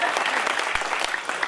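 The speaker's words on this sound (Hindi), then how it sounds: "इस बात पे भी तालियां होनी चाहिए" Brief burst of audience clapping at a Hindi humour and satire poetry gathering, dense and even, with a few sharper individual claps standing out.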